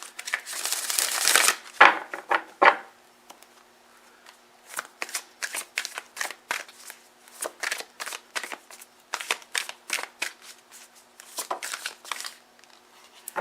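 Tarot cards being shuffled during a reading: a dense riffle burst at the start, then a long series of short, crisp card slaps and flicks at an irregular rhythm, close up and with no talk.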